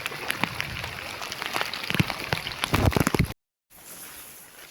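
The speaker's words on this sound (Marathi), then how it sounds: "या मंडळी पावसाची मजा घ्यायला" Rain falling steadily on surfaces in a village during the monsoon, a dense close patter with scattered louder drops, growing heavier before a sudden cut and a fainter continuation.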